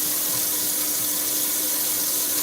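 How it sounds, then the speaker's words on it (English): An onion is rinsed under a running kitchen tap. A steady, close hiss of flowing water runs without a break and masks all other sound. "Yes, I rinse the onion off because actually when you rinse it"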